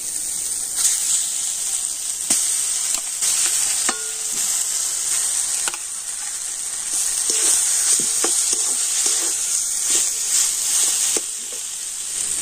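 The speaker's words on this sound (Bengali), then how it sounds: "হলুদ গুঁড়োটা আবার একটু তেলের উপর নাড়াচাড়া করে নিয়ে আর দিয়ে দেবো এখন আমি সিদ্ধ করে রাখা আলু" Turmeric powder, ginger paste and boiled potatoes are stirred in hot oil, a bright constant sizzle overlaid by repeated spatula scrapes and taps against the pan, close and fairly loud, with nobody speaking.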